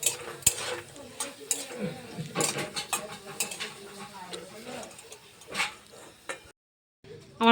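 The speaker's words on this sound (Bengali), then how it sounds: "আমার পাঁপড় ভাজা হয়ে গেল" Papad frying in a pan at home, crackling and sizzling close by with clinks and scrapes of a utensil against the pan, uneven bursts then a brief silence.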